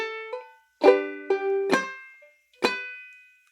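Clawhammer ukulele picks out a slow quarter-note folk melody from "Bury Me Beneath the Willow", four distinct plucked notes and strums ringing out close and clear with short decays and pauses between.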